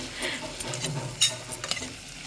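Cashews for kaju masala being stirred and sautéed in a pan, a soft steady sizzle with scraping strokes of the spoon, close and moderately quiet with no voices.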